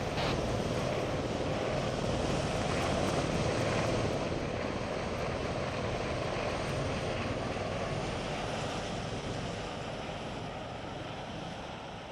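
A helicopter in the Arma 3 military game flies with a continuous broadband rotor and engine roar, steady and moderately loud, fading slightly toward the end, with no talk.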